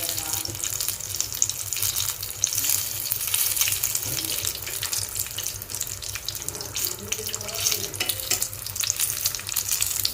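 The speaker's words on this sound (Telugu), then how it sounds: "అటు ఇటు తిప్పుతూ కాల్చుకోవాలండి మంచిగా బజ్జీని." Aloo masala bajji, potato fritters, frying in hot oil while being turned, giving a loud, steady, hissing sizzle that runs unbroken throughout.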